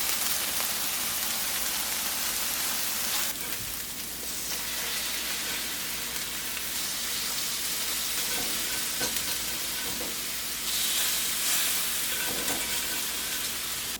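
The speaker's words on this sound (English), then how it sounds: "While my sausages are cooking," Sausages cooking in a pan give a steady, close crackling sizzle that swells louder in a few stretches, like rain on a surface, with no talking.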